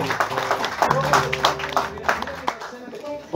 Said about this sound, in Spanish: Un aplauso para todos ustedes primero.